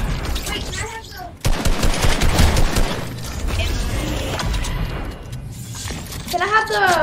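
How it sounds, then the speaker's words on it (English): Video game gunfire from a battle royale match, where rapid bursts of shots and sharp cracks roll across the clip, loud and close, with a voice heard among the shooting. "There's some more people shooting."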